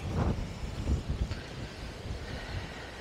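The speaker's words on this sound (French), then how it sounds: "Petit vent là." Steady coastal wind buffeting a microphone at the Baie de Somme, low rumbling gusts that swell and ease over a few seconds, with no voices.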